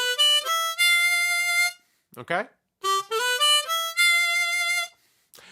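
The opening phrase of a smooth blues riff on a C harmonica, with bent draw notes rising into steady sustained tones. It comes in two close, loud bursts, and a brief spoken word falls in the gap between them.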